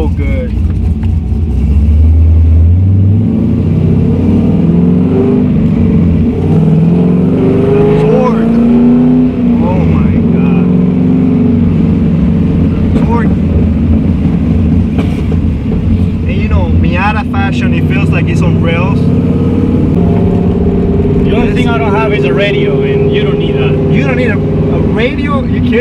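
A deep, rumbling LS2 V8 in a Mazda MX-5 Miata with a choppy cammed idle revs up and down repeatedly, loud and close, with people talking over it.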